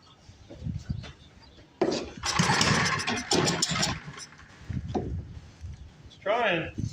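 A worn 1940s Briggs and Stratton Model N small engine is rope-pulled and sputters in rough, uneven bursts without catching, while people talk over it.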